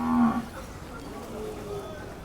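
A Khillar bull at a cattle market gives a single loud, close moo at the start, followed by quieter ambient market noise with faint voices.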